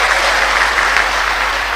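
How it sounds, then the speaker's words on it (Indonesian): A church congregation of women in kebaya claps in warm, continuous applause, a brief steady burst of many hands heard close and alone. "Tepuk tangan dong untuk ini, ibu."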